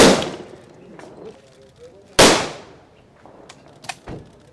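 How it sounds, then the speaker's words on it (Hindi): Police officers fire guns into the air at a Dussehra weapons-worship ceremony at a police lines ground: two loud, sharp outdoor gunshots about two seconds apart, each with a rolling echo, followed by fainter knocks and crowd noise. "वहीं पुलिस अधिकारियों ने हवा में फायरिंग भी की।"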